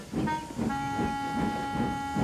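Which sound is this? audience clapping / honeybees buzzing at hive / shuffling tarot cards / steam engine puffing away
steam engine puffing away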